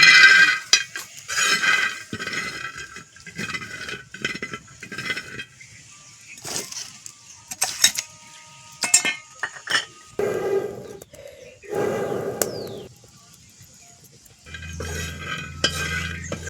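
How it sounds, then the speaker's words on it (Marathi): A spoon scrapes and stirs peanuts roasting on a metal flatbread griddle in repeated bursts, with clinks, rattling and a light sizzle, close up. "आता भाकरीचाच तवा आहे, थोडं शेंगदाण भाजून."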